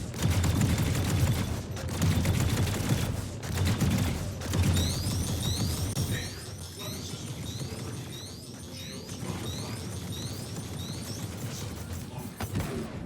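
Spaceship weapons in a space combat video game fire at a Vanguard Warden target, a dense, sustained barrage of mechanical, rattling shots with sweeping tones over a steady loud drone.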